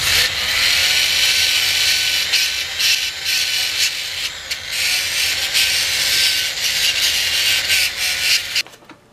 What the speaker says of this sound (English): I find the secret to this is to run the drill slow